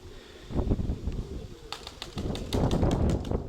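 Pigeons at a nest in a loft give low cooing and wing flaps with shuffling, fairly close, in irregular bursts.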